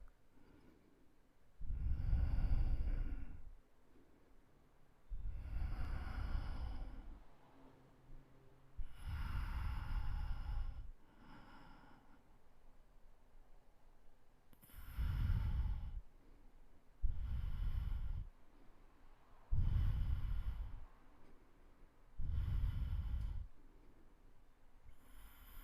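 Deep, slow breaths during a yoga flow class, each long inhale or exhale rising and fading in a steady rhythm, about eight close, audible breaths with quiet pauses between.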